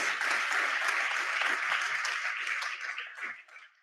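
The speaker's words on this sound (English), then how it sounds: "Round of applause." An audience at a business summit breaks into loud, dense applause close by, sustained for a few seconds before tapering off.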